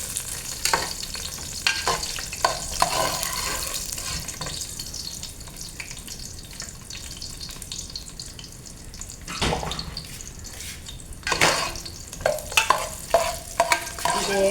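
Frying in oil in a pan while making semiya payasam, a close steady sizzle with stirring scrapes and irregular louder bursts, and no talk.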